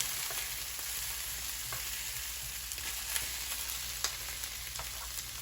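Italian sausage with onions and peppers fries in a pan with a steady, fairly quiet sizzle, broken by a few faint pops and crackles throughout.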